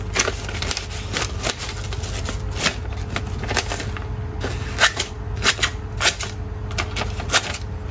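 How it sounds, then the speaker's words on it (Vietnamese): A small new-bladed hand saw of the kind used for trimming small branches is test-cut through paper, making a rapid series of dry, crackling rasps and snaps, loud and close, with uneven strokes throughout. "em sẽ test cắt giấy cho các anh xem luôn"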